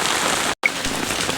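Heavy monsoon rain pours steadily onto a farmyard with drumstick saplings and cows standing out in it, a dense continuous hiss broken by one abrupt gap of near silence.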